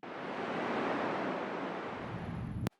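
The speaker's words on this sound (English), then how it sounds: "I have this wind, air, almost sounds like you're at the ocean" Soft wind-and-air ambience resembling distant ocean surf, a broad, steady hiss that holds evenly and cuts off abruptly near the end.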